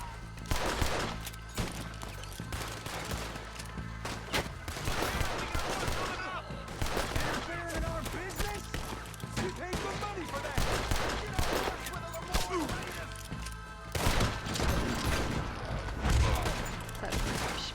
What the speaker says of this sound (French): je tire sur un pote